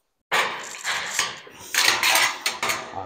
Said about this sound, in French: Je viens le sertir et le visser entre eux.